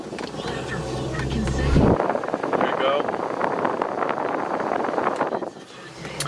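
Cabin ventilation fans of a 1971 Volvo 1800E run as a steady broadband whoosh, joined by a low hum near the start and continuing at even loudness inside the car; no voices.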